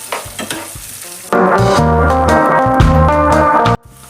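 Sliced onions sautéing with ten garlic cloves and a handful of ginger for Chettinad mutton gravy, a quiet stir at first, then a loud steady sizzle and crackle of frying for about two and a half seconds before it drops off.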